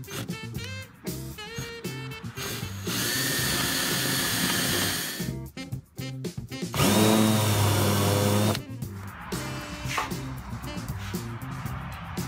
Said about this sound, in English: I'm gonna drill a hole, and then I'm gonna use a countersink bit around it to help widen it out just a little bit